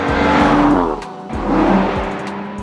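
A 630 hp 2027 Audi RS 5 Sedan driven hard on a race track, its engine revving loudly in two surging pulls with a brief dip between, tires faintly squealing, no talk.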